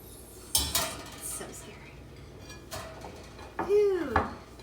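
Cocoa brownies are depanned from a baking pan onto a plate: sharp metallic clanks, a scrape and clattering knocks of the pan and plate, close and intermittent, with brief rings between softer gaps.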